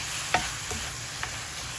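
Stuffing for a homemade stuffed bread cooking gently in a pan, giving a faint, steady sizzle with a few soft scrapes of stirring.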